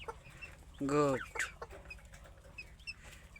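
A hen clucks once loudly and close, a short harmonic burst, followed by softer clucks and faint background sounds while a person speaks briefly.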